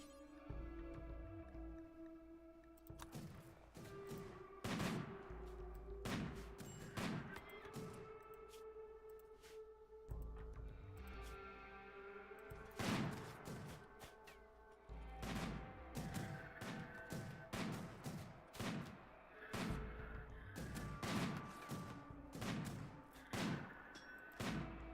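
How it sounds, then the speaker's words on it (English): Repeated gunfire from sniper rifles in a fortress-defense video game, sharp shots landing in irregular bursts over a continuous background of game music and ambience, with no talking. "the sniper rifles are giving us an edge"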